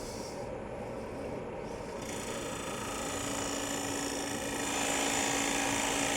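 A bowl gouge cuts into a spinning wood bowl on a lathe, producing a steady, continuous hissing and rumbling drone that grows slightly louder toward the end, close and alone without talk.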